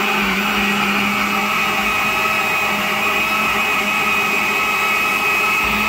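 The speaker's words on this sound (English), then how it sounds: "I'm just switching on my blender from the main and then I'm gonna switch it on and then let's get blending." A blender whirs loudly and steadily, blending strawberries, Weetabix and oat milk into a breakfast drink, its motor whine constant and close throughout with no talking.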